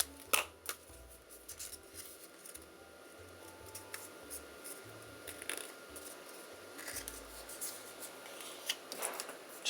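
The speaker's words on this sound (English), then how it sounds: "I'm going to trim this so it's not quite so long." Scissors trim a strip of folded craft paper, a few quiet, crisp snips and paper rustles spaced out against a faint room hush.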